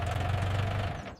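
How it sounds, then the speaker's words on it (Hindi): A tractor engine, revived with a solar panel in a village, runs with a deep, steady knocking rumble close by, loud and continuous throughout before easing slightly at the end. "ट्रैक्टर स्टार्ट हो गया।"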